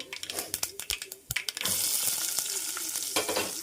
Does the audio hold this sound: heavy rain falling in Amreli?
no